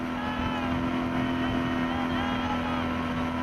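A shrimp fishing powerboat's engine drones continuously at sea, a loud, steady, close roar with a strong low hum and wind noise, unbroken throughout.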